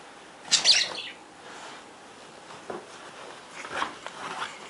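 A pet parrot gives a sharp, bright chirp near the start, followed by a few fainter tweets and small calls in a quiet indoor room.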